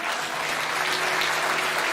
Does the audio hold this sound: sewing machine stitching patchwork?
no